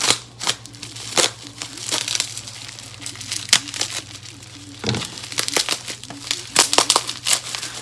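A game store package wrapping is cut open and pulled apart. Close crinkling and crackling of plastic and paper is broken by sharp snips and tugs in an irregular rhythm, with no voices.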